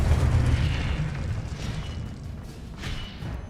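Confringo spell blasts in the Hogwarts Legacy video game: a deep booming burst that rolls and rumbles loudly, then decays into a lower sustained rumble with a couple of smaller swells.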